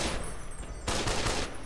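Sustained bursts of gunfire from the video game Fallout: New Vegas, loud and dense, with a heavier volley starting partway through and rapid overlapping shots continuing to the end.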